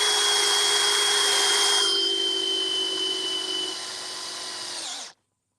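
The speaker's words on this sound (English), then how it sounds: "This is a Dewalt drill." A cordless DeWalt drill drives self-tapping screws into Schedule 40 pipe while fencing on a farm. It makes a steady, close, loud motor whine that sags slightly in pitch before cutting off abruptly.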